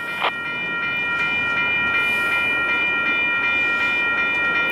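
A stopped Union Pacific freight train led by EMD locomotive 9053 sits rumbling steadily with a constant mechanical hum and high whining tones, with faint clanks now and then; no voices.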